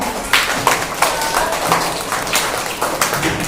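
Scattered clapping from a classroom audience at a spelling bee contest, a string of sharp irregular claps at moderate loudness over a faint room murmur, with no talking.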